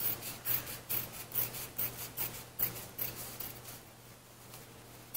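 Scissors trim excess fabric off a quilted scrap pot holder, giving about a dozen rhythmic snipping cuts close by that fade toward the end, with no talking.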